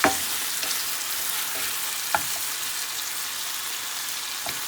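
Chicken jalfrezi with chopped eggs is stirred in a frying pan under a loud, steady sizzle, with a few sharp utensil scrapes standing out against the constant hiss.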